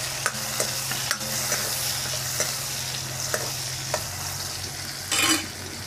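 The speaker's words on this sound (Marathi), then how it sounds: "हे चांगलं हलवून घ्यायचं, तेलामध्ये परतू द्यायचं।" Chopped onion and tomato fry in hot oil in a pan, a steady sizzle broken by repeated sharp scrapes and taps of a spoon stirring, close and clear with no talking.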